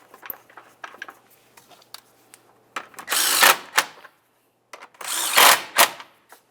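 Power tool running in short bursts as it drives 13mm bolts on the radiator of a 2005-2010 Dodge Dakota, with two longer loud whirs after a few light clicks and taps of handling.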